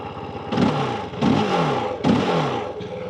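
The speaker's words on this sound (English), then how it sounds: "So, fire it up." A 2025 KOVE 450 Rally street-legal motorcycle engine fires up and revs in three quick, loud blips about half a second apart, each swelling and falling back, then a fourth shorter burst at the end.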